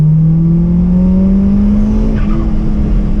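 Mitsubishi Lancer accelerating hard on full throttle around a driving circuit, its engine note loud, close and steadily climbing in pitch without a break, with no voices.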